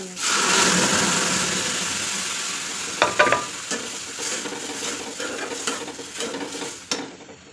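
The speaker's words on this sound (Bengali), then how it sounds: "ভেজে নিয়ে আসি।" Onion, ginger, garlic and green chilies fry in a pan with a steady, close sizzle, broken by several sharp clinks and scrapes of a utensil stirring against the metal, and no voices.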